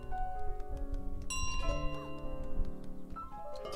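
A bell rings out in Untitled Goose Game, a clear metallic chime with lingering tones amid layered game music and small effects, moderately loud and close.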